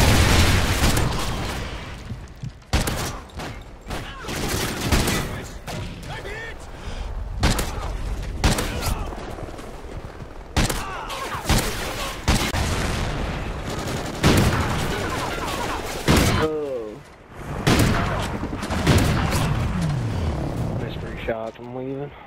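Gunfire in a first-person shooter game comes in repeated loud volleys and rapid bursts over about twenty seconds, with sharp cracks and booms close by and short gaps between the exchanges.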